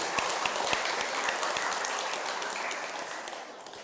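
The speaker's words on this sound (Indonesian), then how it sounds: "Tepuk tangan Krishna." Audience applause after a talk: a dense, crackling patter of many hands clapping at once, with a few sharper individual claps early on, tapering off slightly toward the end.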